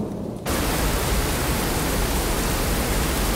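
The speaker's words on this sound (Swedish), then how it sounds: "Värst, vilket hemskt regn." Heavy rain starts abruptly and pours down as a dense, steady hiss, loud and continuous with no voices.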